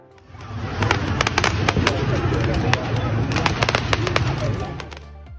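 Fireworks set off by a crowd in Luyi, Henan, a dense rapid crackle of firecracker pops and bangs running almost continuously for several seconds over a rumbling roar, then tapering off.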